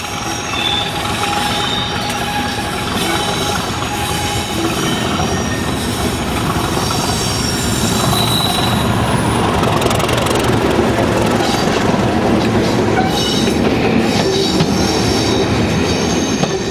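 A UK rail charter train runs past close by and loud, its wheels squealing over a continuous rumble of cars on the rails.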